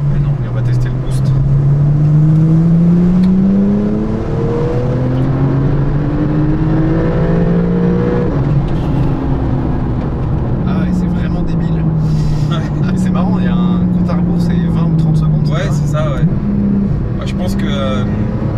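A Porsche 911 991.2 GTS accelerating hard with overboost, heard from inside as a loud engine tone climbing through several rising sweeps between gear changes, with a steady roar beneath.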